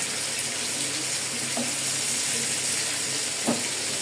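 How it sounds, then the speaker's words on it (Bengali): Onion petals and capsicum fry in a pan for chilli chicken, a steady broadband sizzle with faint clinks near the middle and a soft knock toward the end, no voices. "পেঁয়াজের পাপড়ি এবং ক্যাপসিকাম। দুটোকে একটু সুন্দর করে ভেজে নিব"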